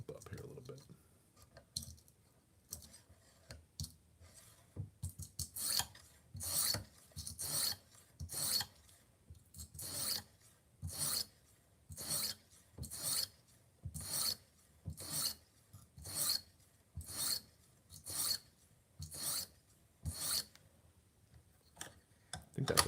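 A kitchen knife is drawn repeatedly across a sharpener, producing evenly spaced rasping strokes, about twenty in a steady rhythm, close and fairly quiet, with a few irregular scrapes at the start.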